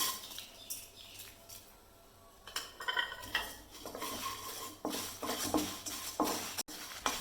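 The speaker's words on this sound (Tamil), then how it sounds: "சட்டி காஞ்சிட்டு எல்லாமே ஒன்றா போட்டு வறுக்கேன்" Spices dry-roasting together in a hot pan for Chettinad fried chicken, with close scraping and clinking of a spoon against the pan as they are stirred, quiet at first and then busier, no voices.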